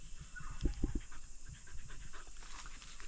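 A dog pants hard and rhythmically close up during an outing into the forest. Its quick breaths come in short, repeated bursts over a steady outdoor background.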